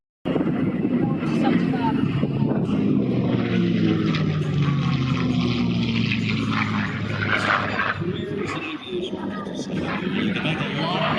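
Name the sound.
P-51 Mustang propeller aircraft flying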